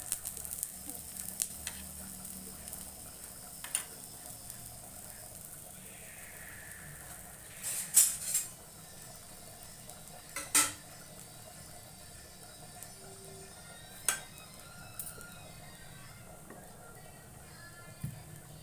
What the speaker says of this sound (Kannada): ಪಲ್ಯ ಬೇಯ್ತಾ ಇದೆ